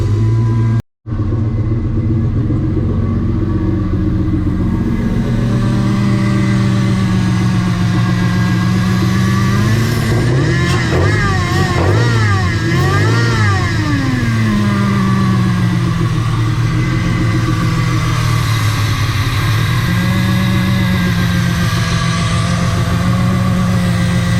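A Jeep 4.0L engine fitted with a fabricated intake plenum runs loud and steady close by, with a brief cutout near the start and several rising revs in the middle before settling back to idle.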